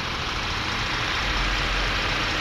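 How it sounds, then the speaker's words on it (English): 2012 Chevrolet Camaro LS with a 323-horsepower V6 engine idling, a steady, dense, loud rumble with a broad hiss and no variation across the short stretch, heard close up at a dealership. "Here's a look at the V6 engine, 323 horsepower"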